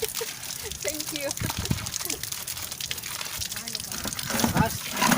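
Water trickles and splashes from a newly buried water pipe as it starts flowing, heard amid outdoor noise while people talk nearby.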